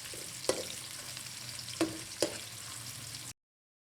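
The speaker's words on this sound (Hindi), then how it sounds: "प्याज को गोल्डन ब्राउन करेंगे। आंच को दरमियाना ही रखना है।" Onions frying over medium heat in a pan toward golden brown, a steady soft sizzle broken by three sharp spatula knocks and scrapes, then abrupt silence.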